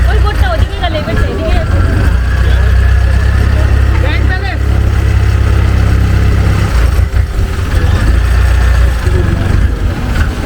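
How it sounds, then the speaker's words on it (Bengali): A boat engine drones on a canal trip from Taling Chan floating market in Bangkok, a loud, steady, low rumble that persists throughout, with voices over it. "অবশেষে আমাদের নৌকায় যাত্রা শুরু হলো"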